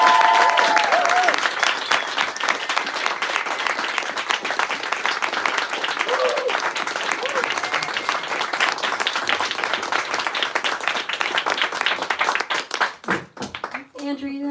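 An audience applauds to welcome two speakers at a book talk, steady dense clapping filling the room and holding strong before tapering in the final seconds, with a bit of murmuring underneath.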